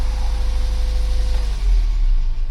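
An Austin Allegro with a swapped-in 1275cc engine runs steadily, a close, even idle with a low pulsing drone and a slight change in note near the end.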